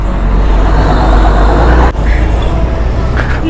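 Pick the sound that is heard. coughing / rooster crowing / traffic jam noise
traffic jam noise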